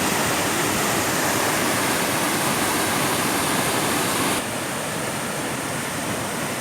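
A steady, full-bodied roar of falling water at Kaigal waterfall, Chittoor district, close and continuous, dipping slightly in level partway through, with no one speaking.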